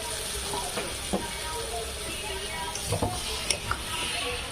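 Four or five medium-size cut potatoes fry in a pan over a high gas flame. A soft, continuous sizzle runs throughout, with occasional scrapes and clinks from stirring, close by and fairly quiet.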